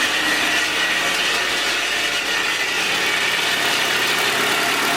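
A worn-out transmission rattles under a VW Golf engine at idle, a steady, continuous mechanical drone with a gritty rattle and no pauses or talk.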